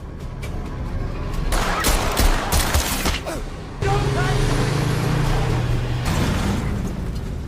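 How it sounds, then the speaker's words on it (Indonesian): A fierce exchange of gunfire during a film car chase: scattered shots and bangs over engine rumble, then a steady vehicle drone, loud and busy. "1 unit mobil yang masih gigih melakukan pengejaran memaksa Sin untuk terlibat dalam baku tembak sengit"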